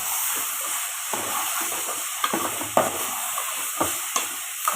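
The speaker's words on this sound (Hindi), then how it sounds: "अब इसको हमने हल्का सा पका लेंगे।" Boiled potatoes with chopped coriander and green chili being lightly cooked in a pan, a steady close sizzle and hiss broken by irregular soft scraping stirs.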